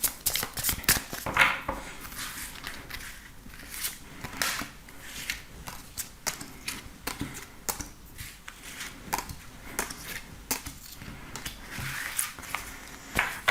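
Tarot cards are shuffled by hand for a reading, giving repeated crisp riffling bursts and soft slaps in an irregular rhythm, close and fairly quiet with no talk over them.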